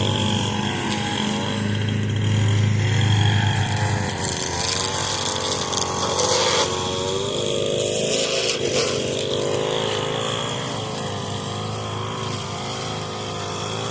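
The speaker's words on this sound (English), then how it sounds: "So now we can hear both the Echo SRM 225 plus the Craftsman over there." Echo SRM 225 string trimmer whining alongside a Craftsman riding mower with a Briggs & Stratton engine during lawn cutting, a continuous engine drone with shifting pitch and occasional revs, fairly close.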